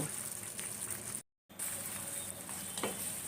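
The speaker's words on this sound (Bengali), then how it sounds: "এবার হালকা করে ভেজে আমি চিকেন তুলে রাখব" Marinated chicken frying lightly in oil in a pan, a soft continuous sizzle with faint stirring, interrupted by a short silent gap midway.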